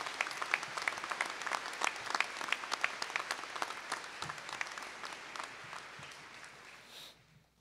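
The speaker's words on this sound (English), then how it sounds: "Would you please join me in thanking them with a round of applause?" Steady round of clapping from a high school commencement audience at Fort Atkinson High School's Class of 2021 graduation, dense and even for several seconds before tapering off at the end.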